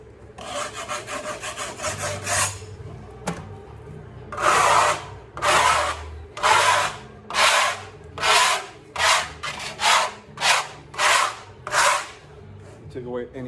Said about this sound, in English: And then when it dries, you lightly sand it.